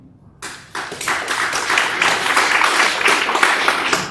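A crowd at a U.S. House District 15 candidate forum breaks into applause after a brief quiet moment. The clapping swells quickly into a steady, full round of many hands that continues to the end.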